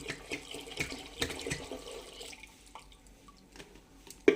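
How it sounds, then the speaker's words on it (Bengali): Water pours into a pot of half-boiled lentils while bhog khichuri is being cooked, a steady splashing stream that tapers into quieter trickles and a final small clink. "এবার ওই ডালের মধ্যে আমি জল দিয়ে দিচ্ছি"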